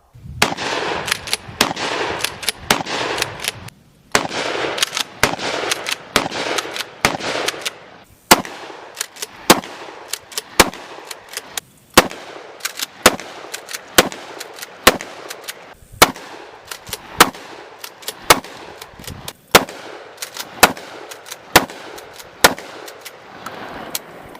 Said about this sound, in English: I was shooting a little bit high with this, seemed to kind of pull up.